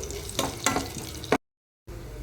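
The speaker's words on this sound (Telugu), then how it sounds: "అందులో కొంచెం ఆయిల్ వేసుకొని ఒక 1/2 స్పూన్ తాలింపు గింజలు, ఒక 4 ఎండుమిరపకాయలు వేసుకొని బాగా కలుపుకోవాలి." Tempering seeds and dried red chillies spit and crackle in hot oil, with a few sharp popping bursts over a close sizzle, then a short silence before the frying returns.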